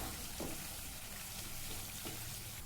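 Carrots frying lightly in a pan give a continuous soft hiss and crackle throughout, with a couple of faint utensil taps and no talking.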